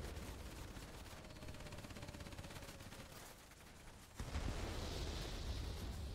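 A bomb dropped from a warplane in a World of Warplanes battle goes off as a deep, rumbling blast partway through, the blast swelling out of a continuous roar of aircraft engine and distant gunfire.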